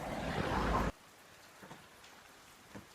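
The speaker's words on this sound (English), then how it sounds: "Oh, it's raining. It's raining outside and it's lovely." Rain falls outside in a steady patter. It is loud and dense for the first second, then drops to a softer, more distant hiss with scattered drips.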